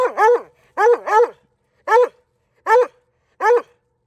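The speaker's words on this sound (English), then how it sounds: "That bark." A coonhound on a hunt bays loudly and close, in six sharp bawling barks, some in quick pairs, separated by silent pauses.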